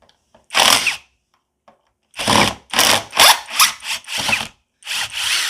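A brushless impact driver driving screws into wood in a workshop rattles in loud, close bursts: one short burst, then a string of quick hammering spurts of varying length.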